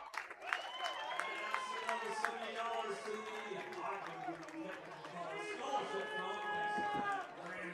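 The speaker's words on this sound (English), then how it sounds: "The crowd chanting Hank." A baseball crowd at an Ogden Raptors versus Idaho Falls Chukars game chants a player's name after a home run, a steady wash of massed voices with scattered cheers and claps, moderately distant and continuous.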